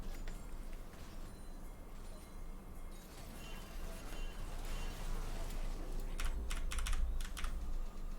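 Rapid clicking of keys on a computer keyboard during a League of Legends coaching session, a fairly close, busy clatter under faint game sounds, with a quick burst of sharper keystrokes near the end.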